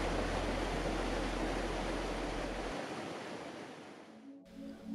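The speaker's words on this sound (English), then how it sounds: "take in the peaceful sights and sounds that these mountain waters have to offer" Rushing mountain water from the Canadian Rockies flows continuously, a dense, steady broadband wash close by, with a low rumble that fades partway through before an abrupt change at the end.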